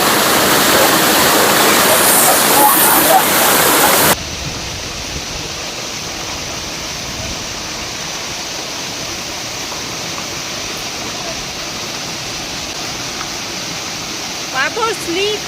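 Broad, steady rush of water flowing over rocks at a waterfall near Belpahari, Jhargram, loud and close for the first few seconds, then a softer continuous wash for the rest.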